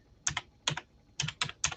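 Close, quiet typing on a computer keyboard in short bursts of two or three keystrokes each, with small pauses between bursts and nothing else heard.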